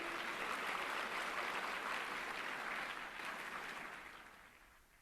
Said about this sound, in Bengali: আরেকটু জোরে করতালি।